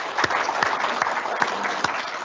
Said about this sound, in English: We'll just have a round of applause for Kabir.